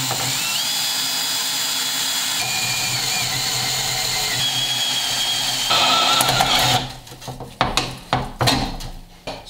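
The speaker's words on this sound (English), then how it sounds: "I find that if I don't drill a decent pilot hole," Spot weld cutter drilling out a spot weld on a Ford Bronco door post, a steady close high-pitched whine of metal cutting that ends partway, followed by several sharp clanks and taps of metal.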